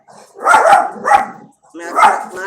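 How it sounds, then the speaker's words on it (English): A dog barks three times up close, loud and sharp, with short pauses between the barks. "fur baby is barking"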